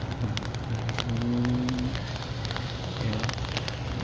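Steady rain patters on a surface nearby, a dense hiss with scattered droplet ticks and a faint low hum beneath.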